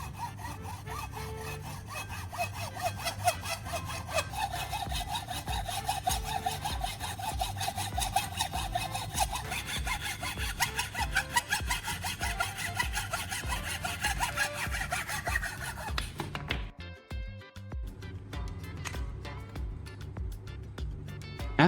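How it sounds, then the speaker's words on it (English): A hacksaw rasps back and forth through a wooden dowel in steady, even strokes, close up, then a brief pause before the sawing resumes. "Using a hacksaw, I carefully cut along the marked line."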